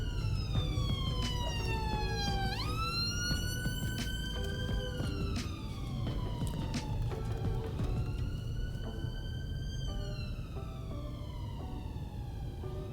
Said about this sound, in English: the ambulance is going